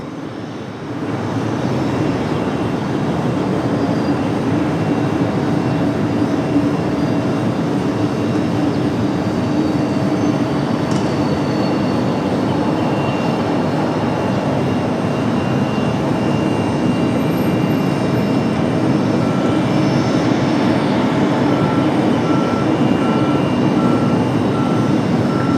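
An American Airlines Boeing 777 at Raleigh-Durham airport, a loud, steady jet engine roar that swells up within the first seconds and holds for the rest of the recording, with no voices.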